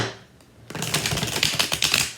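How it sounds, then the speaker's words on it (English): Tarot cards being shuffled by hand, a rapid run of crisp riffling clicks and snaps after a brief quiet start, close and fairly loud. "Let me just shuffle first."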